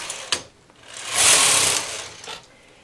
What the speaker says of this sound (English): I'm going to knit 2 rows with my main carriage.